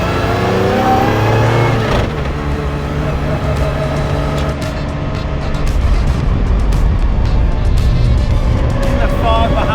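A Mercedes CLK GTR Roadster engine drones loudly under load while driving, a sustained harmonic roar that shifts pitch as it climbs through the revs.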